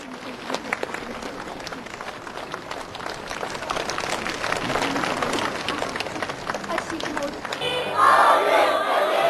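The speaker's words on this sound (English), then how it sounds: "The torch was lit and passed over to local leaders amid cheers and thunderous applause." A large outdoor crowd at the Olympic torch lighting in Lhasa cheers and applauds, a steady wash of clapping and shouts that swells louder near the end.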